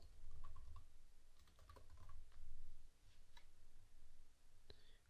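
Keys tapped on a computer keyboard while entering plugin names for a WordPress site, a soft, fairly faint run of quick clicks in short bursts with pauses between them.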